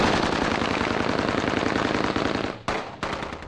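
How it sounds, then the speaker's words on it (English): Rebel machine gun fire during fighting in the Libya uprising, a long continuous rapid burst lasting several seconds, then a brief pause and a few more shots, loud and close. "Another long burst of rebel gunfire there."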